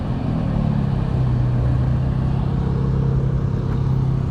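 Ferrari Testarossa engine at a cars and coffee meet, a steady low rumble idling nearby with no clear revs, constant and fairly loud throughout.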